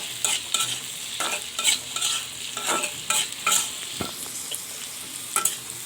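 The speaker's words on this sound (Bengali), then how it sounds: "এই যে পেঁয়াজটা একটু হালকা ভেজে নিলাম" Garlic and onion frying lightly in a pan for a dried-fish mash, with a soft continuous sizzle broken by repeated scraping strokes of a spoon at an uneven rhythm; no voices.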